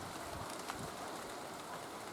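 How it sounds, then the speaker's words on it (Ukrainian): Steady, soft broadband hiss of rain falling on a surface, continuous and even throughout with no voices. "дощ вже пішов"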